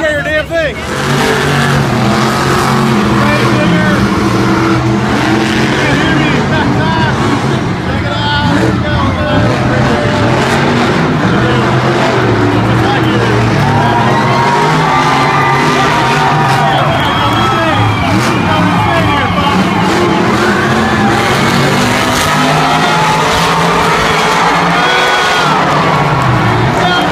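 The Grave Digger monster truck roars at a loud show, its engine blaring continuously amid a cheering crowd with people talking over the din.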